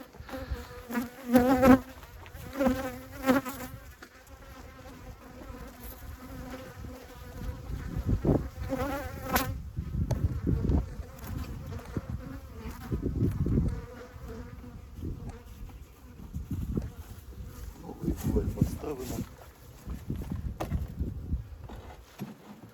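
Honey bees buzzing around a hive while a new hive box is set in place: a continuous swarming drone with individual bees whining close by, mixed with thumps and handling noises.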